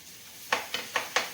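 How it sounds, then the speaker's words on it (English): Four short, evenly spaced bursts of hiss come from a heating pan as chicken starts to sizzle, each crackle quick and fairly close over a quiet background. "this is starting to sizzle"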